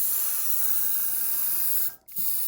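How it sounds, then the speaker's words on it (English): Spray paint hisses steadily onto an N gauge model locomotive body, loud and close, broken by one brief pause before the spraying resumes. "You're spraying over the windows."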